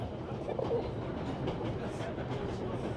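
A train in the 11-11 Memories Retold game rolls steadily through Germany with a low, even rumble and soft track rattle. It sounds moderately faint and continuous.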